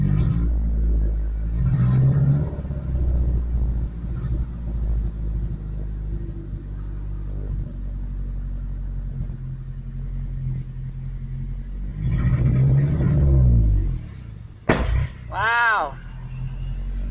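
Pickup truck engine that won't stay running and dies in reverse, rumbling and surging unevenly at close range, swelling in rough revs near the start and again toward the end before a sharp knock and brief whine.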